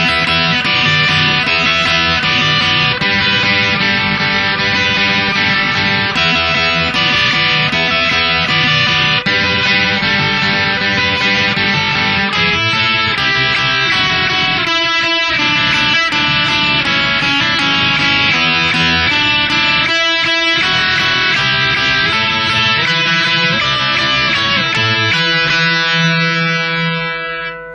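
Electric guitar playing a riff at a slower pace, distorted and echoing, with a steady dense sustained tone throughout, loud and close with no talk.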